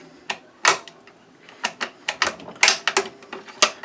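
The bolt of a 1949 British Enfield No4 Mk2 rifle is worked and cocked on closing, producing a series of close, sharp metallic clicks and clacks at an irregular rhythm.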